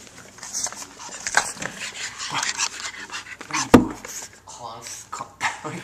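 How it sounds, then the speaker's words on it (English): Boston Terrier puppies pant and whimper close by, with quick breathy huffs and small whines, a sharp clatter near the middle, and people talking and cooing over them throughout. "these dogs are even too crazy for me"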